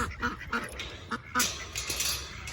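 Several ducks quack repeatedly in bursts, close by, with a busy, overlapping chatter and some background noise.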